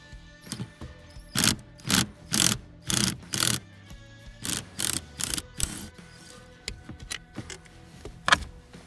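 Ratchet clicking as 10mm bolts are removed from the accelerator pedal of a Chevy Impala, a series of rapid ratcheting bursts in short groups, close and fairly loud, with quieter scattered clicks toward the end.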